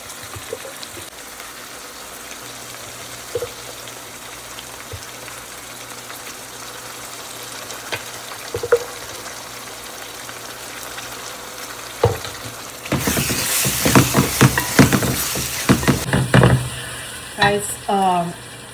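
Tomato and ginger garlic paste drop into a hot pan, and a faint background hiss bursts into a loud, close, crackling sizzle that continues for several seconds.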